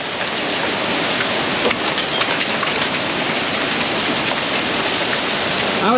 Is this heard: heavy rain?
yes